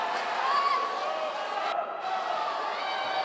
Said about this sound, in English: the crowd's really starting to get behind their teams here